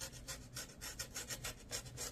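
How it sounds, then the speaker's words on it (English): Steady rhythmic rasping strokes, about ten in a row, close and fairly quiet, as a rotary cutter works through bag lining fabric. "I'll be using this cutter,"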